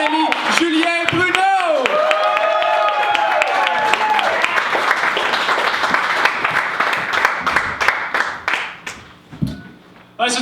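Audience clapping and cheering builds to welcome comedian Julien Bruno at an open mic night at La Taverne Royale, a dense close burst of applause with excited voices and whoops that fades toward the end.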